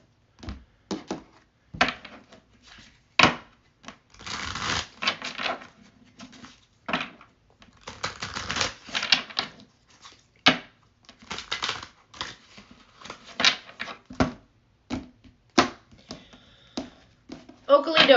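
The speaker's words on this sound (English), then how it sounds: "It's like the longer I spend shuffling, the harder it gets." Crisp, irregular bursts of tarot card shuffling and riffling, each lasting a moment, interspersed with quiet gaps and occasional soft talking nearby.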